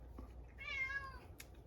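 A single drawn-out cat meow, faint and indoors, heard alone during a quiet knitting session.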